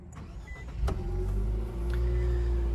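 A 2022 Infiniti QX55 SUV starts up, a sharp click followed by the engine catching and settling into a steady low idle hum up close.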